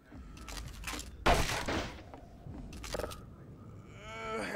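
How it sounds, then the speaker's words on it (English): A Combine-style soldier fires on the player in the video game Half-Life 2. Sharp gunshots and brief volleys come close and moderately loud, separated by quieter gaps of ambient game noise. "there's another soldier that's just shooting at me"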